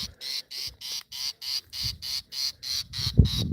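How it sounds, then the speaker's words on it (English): A fiscal shrike gives an alarm call at a yellow mongoose, a fast, regular series of about a dozen harsh, evenly spaced notes, close and clear, with faint low rumbles beneath. "The fiscal shrike is alarming to the yellow mongoose."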